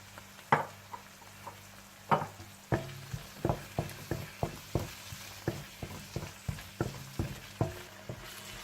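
A spoon scrapes steadily through masala sizzling in a karahi as yogurt is mixed in for mutton chops: a dozen or so crisp, evenly spaced strokes ring out over a constant low frying hiss, close and fairly loud.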